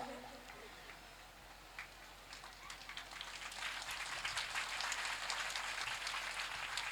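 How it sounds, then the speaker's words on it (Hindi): Applause from an audience at a Ram Katha religious discourse in Giridih, Jharkhand, builds from scattered light clapping into a steadier, denser patter of many hands, moderately distant and not very loud. "तालियां कमजोर है"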